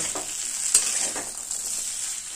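Fried potatoes and drumstick pieces sautéed with spices in a pan for a vegetable chorchori, a soft steady sizzle with light scraping stirs, close and moderately quiet, no talking.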